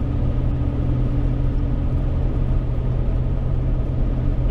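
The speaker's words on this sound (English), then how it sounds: "you're right next to the highway though, so you're going to hear all kinds of traffic and noise" Steady highway traffic rumbles beside a lakeside campsite in Nevada's Pahranagat Valley, with a truck rolling past; the loud, continuous roar holds throughout with no voices.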